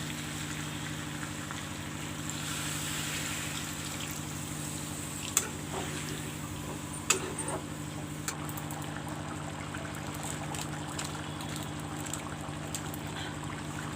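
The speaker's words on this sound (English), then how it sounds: "Now I will put some water." Water poured into a pan of browning chicken masala while cooking dry chicken, a low steady trickle and sizzle under a constant hum, with a few small clinks of utensils.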